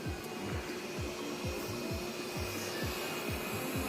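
A eufy E25 Hydrojet robot vacuum runs in a bedroom with a steady motor whir and a repeating rhythmic sweeping brush scrape, moderately close, with no voices.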